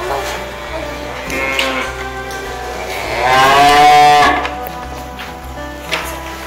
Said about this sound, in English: I'm gonna let those cows in for their.